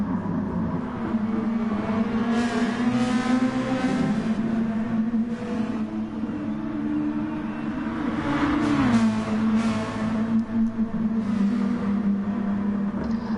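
Sim racing cars drone in a steady engine tone that swells and falls as they rev and shift. Several cars are audible, with brief surges as they pass close.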